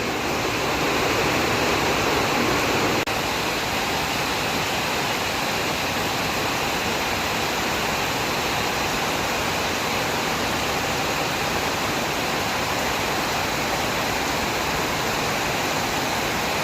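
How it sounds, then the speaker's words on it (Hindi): Heavy, steady rain roars without a break, with a constant broadband hiss and rushing water underneath, loud and close throughout. "और ये तो आज बहुत दिन के बाद बारिश आई है"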